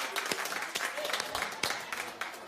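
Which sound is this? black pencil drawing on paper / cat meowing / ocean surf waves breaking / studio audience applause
studio audience applause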